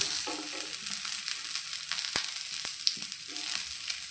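Chopped onions sizzling steadily on an iron dosa pan over a medium flame, a close, continuous crackling hiss with a few soft scraping touches and no talk.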